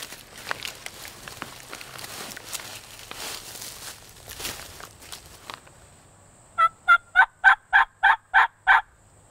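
A wild turkey hen calls from an oak head bordering an orange grove, a series of eight sharp, evenly spaced yelps that ring out clearly after a stretch of soft rustling and quiet ambient noise.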